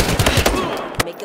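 Automatic gunfire from the video game Battlefield Hardline, a rapid burst of close, punchy shots followed by a gap and one final loud crack, with game voices briefly mixed in.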